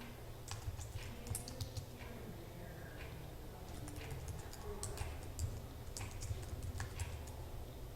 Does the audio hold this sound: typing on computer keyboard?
yes